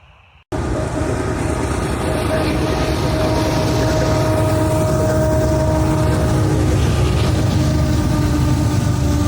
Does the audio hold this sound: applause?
no